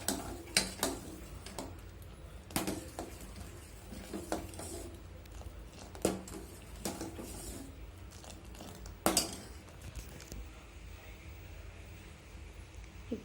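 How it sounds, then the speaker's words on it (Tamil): Sugar being stirred into thick black urad dal porridge in a metal pot, giving light repeated spoon clinks and scrapes in an irregular rhythm at close range, with a few sharper taps along the way and no talking. "சர்க்கரை போட்டு கலக்கி விடலாங்க"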